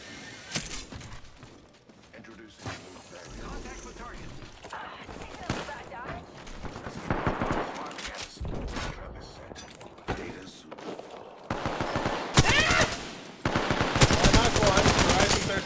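Rapid gunfire in a video game battle, dense bursts of automatic shots and single cracks running throughout, growing louder toward the end, mixed with a player talking over them.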